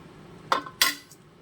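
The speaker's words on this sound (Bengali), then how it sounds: "আমি প্রথমে টমেটোটাকে এভাবে কাট করে নেব।" A knife cuts a tomato on a plate in two short, close scraping strokes with a faint metallic clink, with quiet surroundings and no talking.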